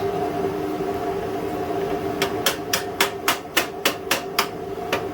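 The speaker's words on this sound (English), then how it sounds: "I'm not hammering it into threads, it's just got to get past a certain point." After a steady mechanical hum, about a dozen sharp metallic hammer taps ring out in a quick, even rhythm, close and distinct, as a part is hammered into place on an old generator.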